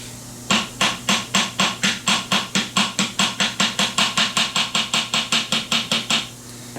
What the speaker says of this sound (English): Just a light tap, nothing too heavy.